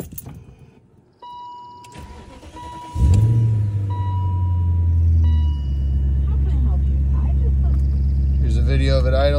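A cold 2001 BMW 740i M-Sport V8 with an aftermarket muffler cranks briefly and fires up. It settles into a loud, steady, close-up rumble, with faint clicks and whirs around the start.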